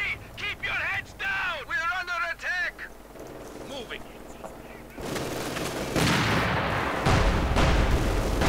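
Gunfire and artillery from a Company of Heroes 2 battle, with rumbling blasts and crackling shots building in the second half after a stretch of people talking, plus a honk-like tone early on.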